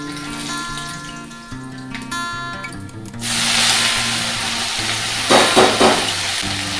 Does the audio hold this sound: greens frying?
yes